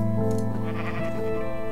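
A video game sheep gives a couple of close, loud, wavering bleats in quick succession, alone without talk.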